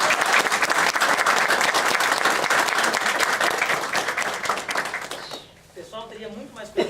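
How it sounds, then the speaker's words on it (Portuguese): An audience gives a round of applause for two sisters after a talk about chakras. The clapping is loud and sustained, then fades, and voices come in at the end. "E uma salva de palmas para elas, que elas merecem."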